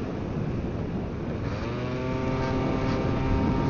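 A Yamaha BWS two-stroke scooter held at full throttle on a mountain climb, its engine droning and rising in pitch, with heavy wind rush over the microphone.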